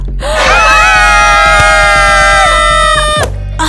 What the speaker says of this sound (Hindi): लड़की इस तरह से क्यों चिल्ला रही हो?